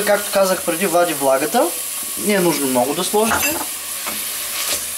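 Onions frying in just a little oil in a pan with a pinch of salt, giving a steady, soft sizzle beneath a person talking throughout.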